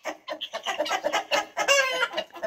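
Chickens out in a rural village yard cluck continuously and close by, in a busy overlapping chorus of short rhythmic calls, with one longer drawn-out cackle near the end.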